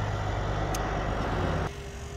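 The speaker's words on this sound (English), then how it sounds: "loud truck." A loud truck rumbles close by at a truck stop, a dense broadband engine roar that holds steady, then drops abruptly as it moves off or cuts back.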